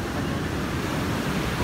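Surf at a beach washing in as a steady broadband roar with wind noise on the microphone, continuous and fairly loud with no talk.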